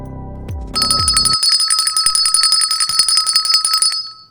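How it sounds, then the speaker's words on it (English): An electric bell rings loudly and continuously in a rapid, steady rattling trill for several seconds after a few short tones, with no talking over it. "Ring your bell."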